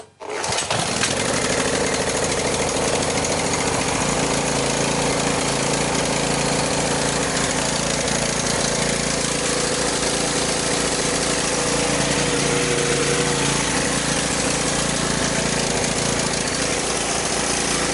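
A small gasoline generator fires up on choke and keeps running: a loud, steady, buzzing engine roar that starts almost at once and holds nearly constant, close to the mic, with no talk.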